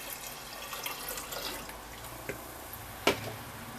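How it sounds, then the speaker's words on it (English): Kombucha starter liquid is poured into a vessel of sugared tea, a soft, faint pour and trickle with a brief louder splash near the end. "And there goes the starter liquid."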